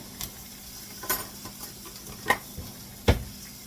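Sausages cooking in a frying pan for a breakfast hash, a soft, steady sizzle close by with a few sharp clinks and taps from a utensil scattered throughout.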